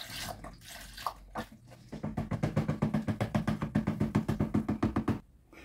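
Evaporated milk is poured from a carton into a tres leches dessert mixture, giving a rapid, rhythmic glugging with about twenty even pulses. Softer handling noises come before it.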